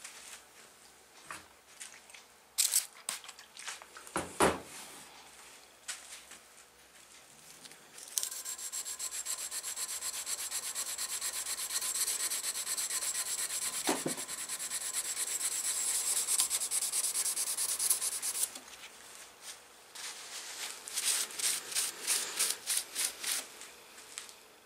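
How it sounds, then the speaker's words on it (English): A knife blade is hand sanded with 600 grit paper in a steady back-and-forth rub, soft and close, with quieter scraping strokes before and after a longer continuous stretch of sanding. "I'll go into the 600 paper and take it backwards and forwards across the blade"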